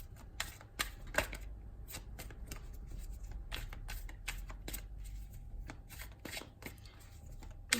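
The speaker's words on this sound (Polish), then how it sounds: "Będziemy tak długo tasować, aż coś tutaj wyjdzie." A deck of cards is shuffled repeatedly, with quick crisp riffles and slaps in an uneven rhythm, close and fairly quiet, without talk.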